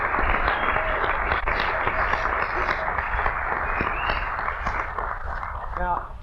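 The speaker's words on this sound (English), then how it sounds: "Now, I had people applause just like that for about 10 times" Audience applause at a 1996 John Birch Society political speech, a steady wash of clapping from a crowd heard under an ongoing voice.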